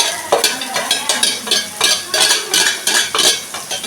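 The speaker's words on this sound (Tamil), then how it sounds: "இந்த மாதிரி வெங்காயத்தை போட்டு நல்லா வதக்குவோம்" Onions with dried red chillies and green chilli being sautéed in a pan, loud rhythmic spatula scrapes and knocks repeating over a light sizzle, close and steady, with no voices.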